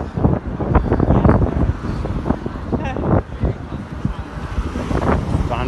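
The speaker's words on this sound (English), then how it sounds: "you're not going to be hearing much of me speaking, you're going to be hearing more of the wind" Loud, uneven wind buffeting a microphone on a walk in Lincoln, rumbling gusts that surge and drop throughout.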